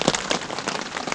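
Rain drums steadily on a car camping setup in a heavy downpour, a close, even patter of countless drops with occasional sharper hits.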